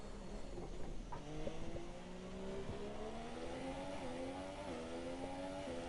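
A race car in a PS4 racing video game drives through a braking zone, with a faint tire squeal and then a rising engine whine as it revs up through the gears. The sound is steady and fairly quiet.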